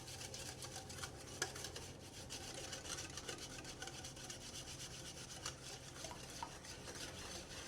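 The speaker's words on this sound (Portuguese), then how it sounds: "Vamos mexer aqui com o fouet." Whisk stirring bread batter of sugar, oil and two medium eggs in a bowl, a steady close rubbing and scraping with light rhythmic clinks throughout.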